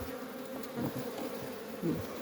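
A thick, unbroken hum of honeybees swarms around an 8-frame package colony of Kılıç bees, heard close, with a couple of brief louder swells as bees pass near.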